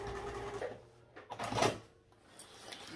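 A sewing machine back stitching on a crossbody bag project makes a quiet mechanical whir with short bursts and stops, including one louder rattling run in the middle, close but soft.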